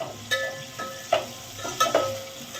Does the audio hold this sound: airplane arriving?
no